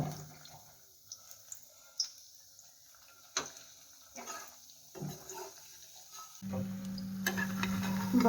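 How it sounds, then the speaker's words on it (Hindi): Semolina pakoras fry in hot oil and are turned until golden brown, with scattered close scrapes and clinks of a utensil, then a steadier bubbling sizzle toward the end and no talking. "अब उसे हम गोल्डन ब्राउन होने तक उलट पलट कर लेंगे।"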